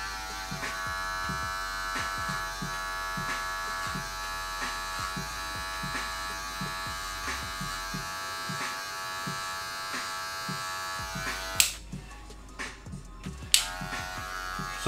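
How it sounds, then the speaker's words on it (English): An electric hair clipper buzzes steadily with a bright, even hum while cutting hair for a fade, with repeated soft strokes ticking through it and a brief break and clatter near the end. "take the bulk down with our clipper closed"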